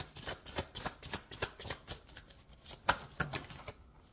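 Tarot cards are drawn and shuffled in quick, crisp riffling flicks. They make a steady run of close, soft snaps with no talking.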